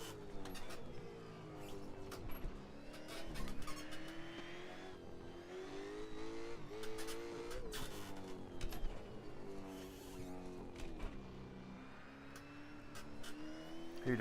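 A 900-horsepower empty Ford Transit van racing hard on a track at a charity event, its engine roaring and revving continuously through gear changes, with brief tyre squeals as the tail slides.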